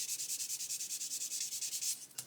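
A plastic 1/48 Airfix Sea King scale model is rubbed with a sanding sponge in quick, even back-and-forth strokes, a steady rhythmic scratchy hiss up close that stops abruptly near the end.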